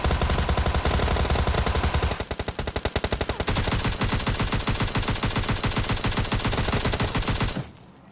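Automatic gunfire in a shooting video game, rapid bursts of loud, evenly spaced shots continuing almost without pause, with a brief change in firing rhythm partway through before cutting off abruptly, no talking.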